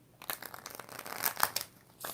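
Tarot cards are shuffled by hand in short crisp bursts of riffling and flicking, close and fairly quiet, with brief pauses between the rustles.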